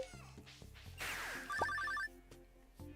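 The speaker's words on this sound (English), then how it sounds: "I'm ignoring the phone. It's probably another spam call." A telephone rings in the Stardew Valley video game, a bright electronic trilling ring sounding over soft game music and chimes, with no talking.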